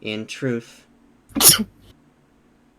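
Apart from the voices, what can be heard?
sneeze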